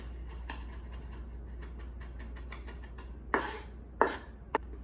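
A knife chops food on a cutting board for black bean burgers, with scattered light taps that build into a few sharper, louder chops near the end.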